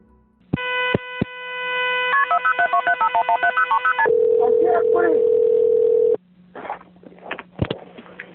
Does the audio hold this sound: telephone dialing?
yes